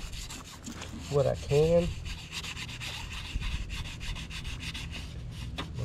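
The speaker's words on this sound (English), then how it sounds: "I like to start off by sanding" Hand sanding scrubs across a car headlight lens in close, steady back-and-forth strokes, with someone speaking briefly partway through.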